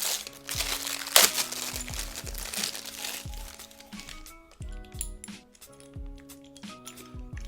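Sealed cardboard-and-plastic packaging for a desk setup being torn open, with crinkling and crumpling, sharp rips and a few clinks of parts against each other, fairly close and busy throughout.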